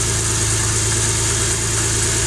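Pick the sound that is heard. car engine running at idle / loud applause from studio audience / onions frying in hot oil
car engine running at idle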